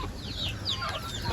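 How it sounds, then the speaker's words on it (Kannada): Native country chickens on a small farm clucking and chirping in short, repeated calls, fairly quiet and close, over a low background rumble with no talking. "ಇದೆಲ್ಲ ನಮ್ಮ ನಾಟಿ ಕೋಳಿಗಳು"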